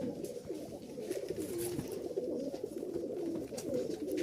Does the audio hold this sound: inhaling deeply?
no